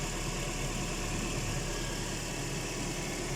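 A Toyota Corolla engine idles steadily and smoothly after a fuel pump replacement, a close, continuous low rumble with no voices.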